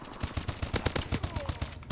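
Rapid automatic fire from an AK12 rifle in Call of Duty: Advanced Warfare multiplayer, a steady, evenly spaced stream of loud shots running unbroken for about two seconds.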